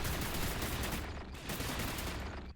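Weapon fire sprayed down hallways in the Orville Interactive Fan Experience video game, a dense, continuous roar of overlapping shots that runs throughout with only a brief dip midway.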